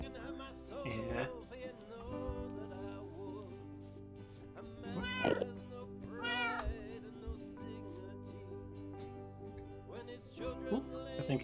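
A cat in the game Minecraft meows repeatedly, several distinct meows spread across the stretch, fairly quiet and clear over a faint background tone.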